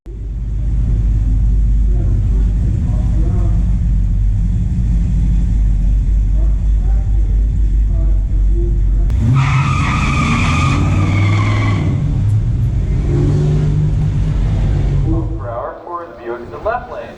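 A 1974 Chevy Chevelle 454 and a 1969 Oldsmobile Cutlass S W-31 at a pure stock drag race, with loud rumbling engines building to a roaring launch and tire squeal before fading away. Crowd or announcer voices are mixed in.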